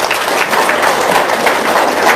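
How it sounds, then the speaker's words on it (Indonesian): Loud, close crowd applause at a seminar-style gathering, continuous rapid clapping throughout with no pauses. "Tepuk tangan dulu dong."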